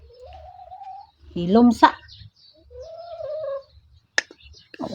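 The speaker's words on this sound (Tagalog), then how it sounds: "So karon mamati ta sa tingog sa birds." Outdoor birds, including a dove-like cooing call, sing in short phrases with a brief chirp near the end, while a person speaks quietly in between.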